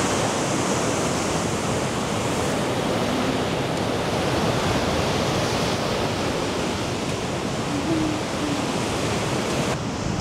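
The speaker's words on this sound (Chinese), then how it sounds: "这个海浪能直接拍到马路上来，就直接在车开的这条路上拍，简直了！" Sea waves break onto a coastal road beside the shore on an overcast day, a loud, continuous roar of surf and churning white water with no pause across the stretch and no voices.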